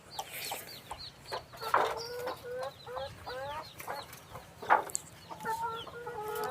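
Several laying hens cluck and chatter nearby in a coop in uneven, overlapping bursts, with a low steady hum underneath.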